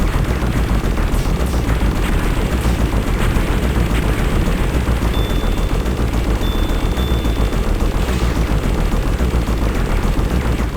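Shooting in the train level of the arcade shoot-'em-up Raiden Fighters 2: dense, unbroken rapid gunfire and blasts pour out at constant loud volume, mixed into driving music with no gaps or talking.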